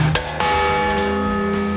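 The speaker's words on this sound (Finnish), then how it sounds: "Ne on saksalaisia kirkonkelloja." German church bells peal with sustained, ringing tones and strong overlapping strikes that hang in the air, loud and close for a short stretch.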